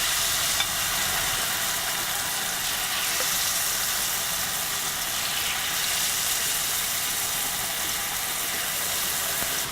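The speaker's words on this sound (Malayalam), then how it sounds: "മാരിനേറ്റ് ചെയ്ത് വെച്ചിരിക്കുന്ന കോളിഫ്ലവർ ഇട്ട് ഫ്രൈ ചെയ്തെടുക്കുക" Marinated cauliflower deep frying in hot oil over a medium flame, a steady dense sizzle and crackle that holds evenly close up throughout with no talking.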